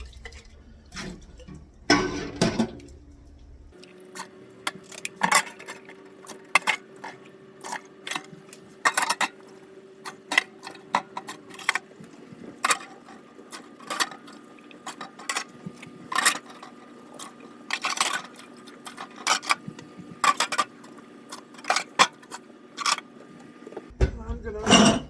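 Glass canning jars being washed and rinsed under a running tap in a kitchen sink, with water splashing and repeated sharp clinks of glass between quieter stretches of flowing water.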